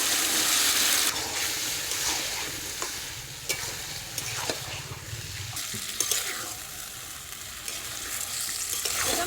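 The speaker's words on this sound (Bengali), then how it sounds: "এখন মাংসটা দিয়ে দেবো।" Chicken goes into a fried spice paste with a loud initial hiss that settles into steady sizzling, punctuated by stirring scrapes and clinks over several seconds.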